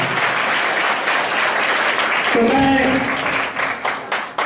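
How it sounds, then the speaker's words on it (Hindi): Audience clapping at a competitive exam result ceremony; a dense round of applause runs throughout, with someone speaking briefly over it midway before the clapping fades toward the end. "उसमें तालियों का साउंड होना बहुत जरूरी होता है"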